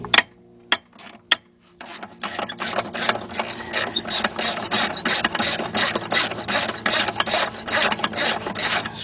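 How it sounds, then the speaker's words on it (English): A 3/8 drive ratchet on a 12-inch extension with a T45 bit loosening brake booster bolts on a 1999 Porsche Boxster: a few sharp clicks, then a long fast run of steady ratcheting clicks, close up. "I got my T45 3/8 drive and using my same 12-inch 3/8 drive extension and my 3/8 drive ratchet."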